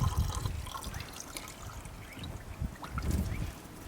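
Water poured into the coolant overflow bottle of a Holden Barina, a soft uneven trickle and splash close by with low rumbling handling noise, no talk.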